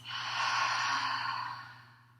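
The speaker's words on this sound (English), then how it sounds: "Take a deep inhale through your nose. Big exhale from your mouth." A single long, deep exhale through the mouth, heard close and alone after a nasal inhale, during a guided breathing exercise for headache and migraine relief; a low steady hum runs underneath.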